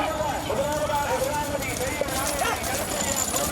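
Hooves pound continuously at a bullock cart race in Puthunilaipatti, Pudukkottai, heard under loud, excited commentary and crowd noise.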